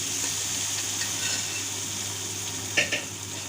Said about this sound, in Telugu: ఇప్పుడు పప్పుని ఆ ప్యాన్లోకి ట్రాన్స్ఫర్ చేసుకోవాలి